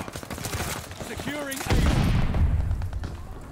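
Shotgun fire in the online shooter Call of Duty Vanguard multiplayer, with a heavy blast rolling into a loud, booming burst of gunfire and low rumble, mixed with other game sounds and a player's voice chatter.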